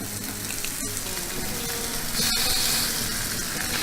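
Lemon brushed with a little oil sizzles on a grill beside a steak, a steady close frying hiss with faint crackle throughout, swelling slightly louder partway through.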